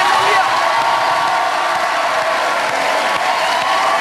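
Studio audience on a French TV show cheers and applauds for a singer, a dense steady roar of clapping with scattered whoops throughout.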